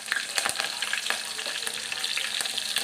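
Curry leaves and green chillies crackle in hot oil for the tempering of a Maharashtrian kadhi, a close, busy sizzle dotted with sharp pops and spits, with no speech.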